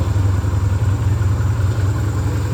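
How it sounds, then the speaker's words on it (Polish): A 2001 Yamaha XV 125 Virago motorcycle engine idles steadily, a close, even low throb with a light mechanical clatter running without a break and no talking. "No i ten dźwięk, teraz sobie pracuje na wolnych ładnie."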